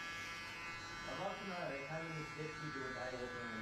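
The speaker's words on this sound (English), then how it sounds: "how annoying is that fucking clipper? It sounds like a fucking wasp." A barber's electric hair clipper buzzes steadily with a thin, high, wasp-like whine, continuous throughout, while someone talks over it.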